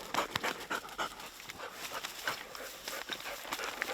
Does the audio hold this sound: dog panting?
yes